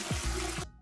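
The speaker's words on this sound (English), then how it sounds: "Wash the lentils." Lentils being washed under running water, a close, steady splashing rush of liquid for under a second that stops abruptly, leaving a faint drip.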